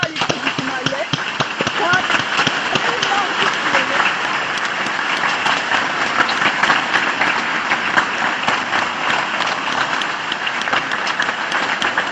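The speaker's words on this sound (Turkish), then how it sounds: "onlara bir kocaman bir alkış" Loud, sustained applause from a large crowd, dense clapping that keeps a steady level throughout with a lively hall-like wash.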